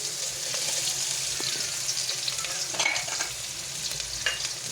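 Ginger and garlic sizzle steadily in hot oil in a pan, a bright continuous hiss with a few soft stirring clicks, close and fairly loud, with no voices.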